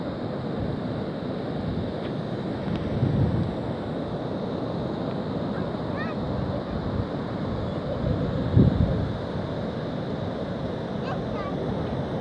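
Ocean waves wash against a flooded shore at Point Michaud during very high water: a steady broadband roar of surf with a couple of stronger surges, mixed with wind buffeting the microphone.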